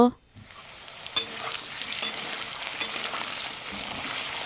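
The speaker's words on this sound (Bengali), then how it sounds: "কড়াই বসিয়ে দিলাম কড়াইতে এখন আলু ভেজে নেব" Potatoes sizzle in hot oil in a wok with a close, continuous frying hiss, broken by occasional scrapes and knocks of stirring.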